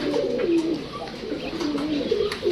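Pigeons coo continuously nearby in GI wire cages, low rolling warbles overlapping one another, with faint rustling around them.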